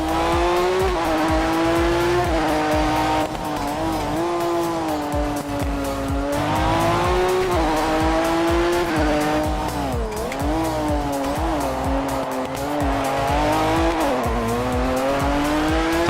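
A race car engine drones loudly and continuously in a VR racing game, its pitch rising and dipping as the car brakes hard, with tire squeal layered over the steady roar.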